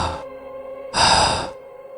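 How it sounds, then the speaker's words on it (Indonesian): Two heavy, eerie breaths, a short exhale followed by a longer, louder one, with a low steady tone underneath as if coming through a radio broadcast. "Terdengar deru nafas mengerikan yang berasal dari siaran radio tersebut"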